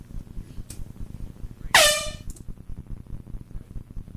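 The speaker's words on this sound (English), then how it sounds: "So if they hear the air horn, we didn't make it." A single loud, blaring air horn blast about a second long cuts sharply over a low background murmur during a radio show stunt.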